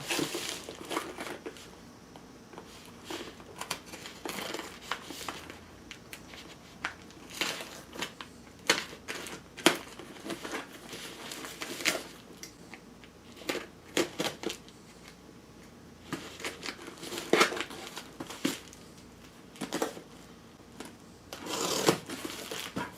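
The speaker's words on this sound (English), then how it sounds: "That's a bubbly wrap." Bubble wrap crinkles and rustles as it is pulled away during the unboxing of a guitar-building saw, close crackling in irregular bursts with no talking over it.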